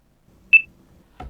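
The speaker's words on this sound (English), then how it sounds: "Long press that mode button until you hear that first beep" A single short, clear high-pitched beep from a long-pressed mode button on a wearable low-vision device sounds in near silence, followed by a faint rustle.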